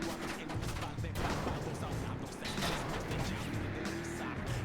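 Car driving over dirt in the Crackdown video game, a continuous rough engine and tire rumble mixed with bursts of gunfire and explosions, loud and busy throughout.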